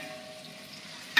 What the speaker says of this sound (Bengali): ও এইগুলো ভাজছে না কি করছো?